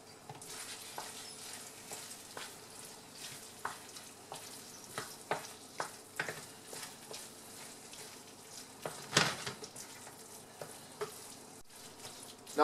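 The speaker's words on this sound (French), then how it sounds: "je vais crémer un petit peu pour avoir une petite liaison." Butternut squash stuffing sizzles and fries in a pan as cream goes in, with scattered stirring scrapes and small crackles, moderately close and steady with no talk.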